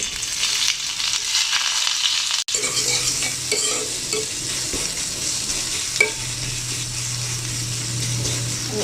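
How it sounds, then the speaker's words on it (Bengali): Three sliced onions and three green chilies drop into hot oil, hissing with a steady loud sizzle while a spatula stirs and scrapes, with a brief break before the frying resumes. "এখানে তিনটা পেঁয়াজ আর তিনটা কাঁচামরিচ কেটে রেখেছি এইভাবে আমি এগুলো দিয়ে দিচ্ছি"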